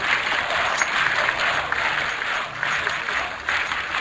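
An esports crowd at a CS:GO tournament cheers and claps, a steady wash of applause with swelling bursts throughout, fairly distant and without clear speech on top.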